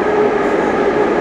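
A metro train car rumbles along in a steady, loud interior drone with a faint sustained tonal hum, heard from inside the carriage without talk.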